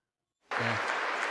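Applause breaks out after a brief silence, an audience clapping at the State of the Union, swelling into a dense, sustained wash of many hands at a steady loud level.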